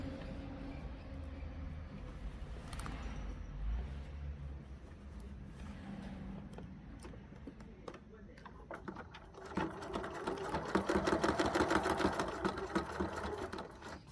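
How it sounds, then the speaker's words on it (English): A sewing machine stitching a utility kilt during alteration, faint at first under room noise and a voice, then a steadier, louder run of rapid stitching toward the end. "then I'll sew the other one"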